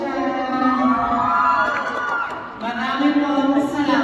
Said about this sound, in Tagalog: wala po ba palakpakan dyan? Wala rin po ba hiyawan dyan?